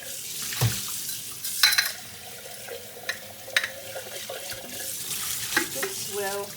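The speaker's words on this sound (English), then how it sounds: "And this I'm going to wash out. Hot water, trying to get off all the bacteria" Hot water runs from a tap to rinse out a milk kefir container, a steady close hiss and splash with clinks and sloshing as the container is swirled, and no talk over it.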